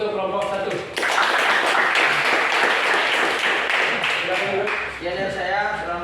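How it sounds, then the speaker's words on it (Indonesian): Applause from a classroom audience for a student group, a dense burst of many hands clapping close by, sustained for several seconds over a speaking voice at start and end. "Kasih aplaus untuk kelompok 1."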